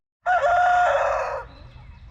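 A single loud rooster crow up close, a drawn-out call lasting about a second, then fading into quiet outdoor background.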